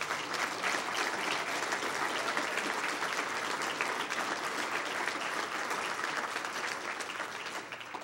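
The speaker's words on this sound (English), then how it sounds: "I hope you will all give them a round of applause." At a UFO conference, a large crowd gives sustained, dense applause for the event staff, loud and continuous from start to finish before easing slightly at the end.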